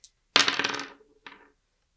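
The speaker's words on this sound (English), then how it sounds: "then we're going to roll these dice" Dice rolled for a tabletop word game, clattering in one dense burst of rattling hits followed by a shorter second tumble, close and loud with no talk over it.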